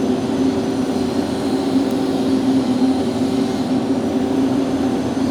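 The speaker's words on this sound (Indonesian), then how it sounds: "Blower nyala, jet fan menyala," A poultry house blower and jet fan run together, giving a loud, steady mechanical drone with a constant hum that holds evenly throughout, with no voices.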